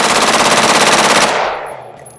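AR-15 rifle with a nitride-treated barrel firing full auto, a loud, rapid continuous burst of shots close by that stops abruptly, leaving a short echoing decay.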